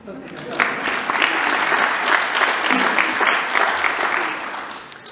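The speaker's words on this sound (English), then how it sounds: "give yourselves a round of applause" Audience at a UNSW Business School leadership event bursts into sustained applause, dense steady clapping filling the room at close range and holding throughout before easing slightly at the end.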